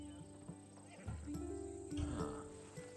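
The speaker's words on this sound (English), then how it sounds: "That horse is from Thessalonia, bred for its courage." A Thessalonian horse bred for courage in the Assassin's Creed Odyssey video game, with a neigh and a few hoof clops beneath people talking.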